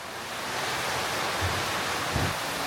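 Heavy hail and rain pour down during an afternoon thunderstorm in Mexico City, a dense, steady roar of falling water and ice with no breaks, plus a couple of low thumps partway through.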